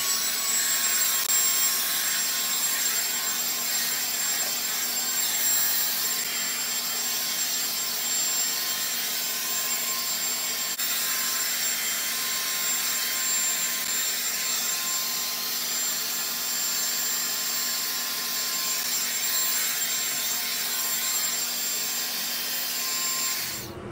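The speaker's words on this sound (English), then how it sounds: "so that is the end of the blow drying" A hair dryer blow-drying hair gives a steady, close, whooshing roar with a faint high whine, running unbroken for over twenty seconds.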